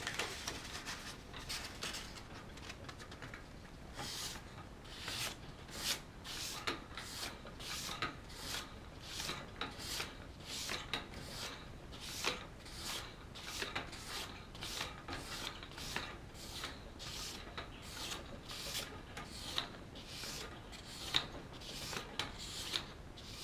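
A razor blade is drawn repeatedly across 1200 grit hardware-store sandpaper, giving a steady run of close, crisp rasping strokes in an even rhythm with no talk.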